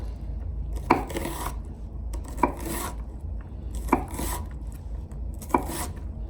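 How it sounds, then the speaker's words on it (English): A knife cuts through an onion on a cutting board in a home kitchen, giving four spaced, crisp chops or slices, each with a short rasping tail, close and fairly loud over a low steady background hum. "this is like the way I've always learned how to cut an onion."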